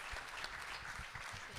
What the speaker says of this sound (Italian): io chiedo un applauso per Giulio